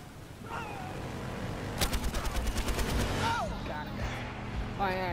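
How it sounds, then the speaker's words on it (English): Automatic gunfire in Battlefield Hardline, a quick burst of about a dozen evenly spaced shots in the middle, with softer game sounds and scattered voices around it. "he just started shooting"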